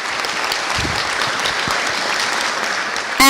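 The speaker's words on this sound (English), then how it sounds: "So let's give a round of applause to Dr." Audience applause at the opening ceremony of an environmental emergencies forum, a steady dense wash of many hands clapping in a hall, loud and sustained for about three seconds before a sharp jump in level at the very end.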